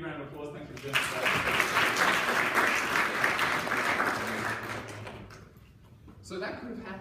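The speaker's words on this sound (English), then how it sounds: "should we give him a big round of applause?" Lecture-hall audience at a physics lecture applauds for about five seconds, a dense loud wash of clapping that fades toward the end, with brief talk before and after.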